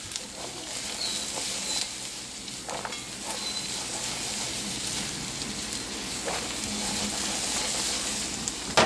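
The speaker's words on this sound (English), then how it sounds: "I'm gonna lower the heat just a little bit and let this saute for a little bit" Green beans and garlic sautéing in an oiled pan, a steady close sizzle like light rain, with a few soft clinks of stirring scattered through and no talking.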